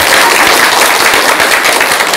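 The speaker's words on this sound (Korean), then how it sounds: "이럴 때 박수도 치는 건데" Applause from an audience, a dense and steady patter of many hands clapping close and loud for a couple of seconds with no other sound.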